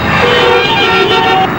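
Busy road traffic in a Telugu comedy film scene, loud and close: car horns blare in sustained tones over a constant rumble of engines.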